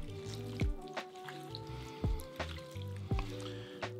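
Leeks are rinsed in water, giving faint, close dripping, splashing and trickling sounds with occasional soft squishy knocks, steady and quiet throughout.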